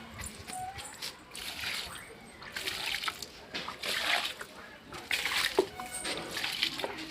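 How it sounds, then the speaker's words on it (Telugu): Water splashing and trickling in short bursts, poured bit by bit onto potted plants close by, with a few quiet background sounds between pours. "ఇలాగ కొంచెం కొంచెం నీళ్ళు పోసుకోవాలన్నమాట"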